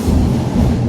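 A train passes close by, a steady loud rumble of wheels and cars rolling on the rail line with no pause through the whole stretch.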